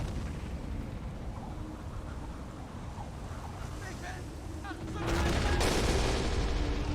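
Explosions from tanks hitting anti-personnel mines during a 1944 Soviet attack on a German-held bridge in the Men of War: Assault Squad 2 war game, heard as a loud, sudden burst after steady wind-like background noise.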